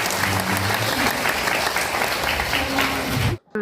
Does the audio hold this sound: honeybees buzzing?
no